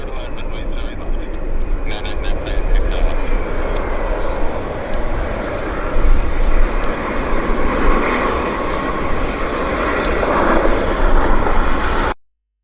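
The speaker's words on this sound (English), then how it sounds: "Got a lander on this side though" Alaska Airlines jet landing at Vancouver airport, heard as a loud, steady roar of engines and rushing air that ends abruptly, with a voice talking over it.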